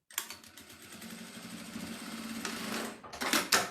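A sewing machine stitches fabric for a clutch, a close, rapid mechanical whir that speeds up through the run and ends in a few short bursts.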